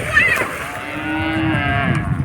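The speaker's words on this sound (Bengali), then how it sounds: "এই গরু ছাগলের হাট, এই প্রতি রবিবারে হাটটি বসে করে।" A cow lets out a long, loud moo nearby at a cattle and goat market, a single drawn-out low call against faint background noise.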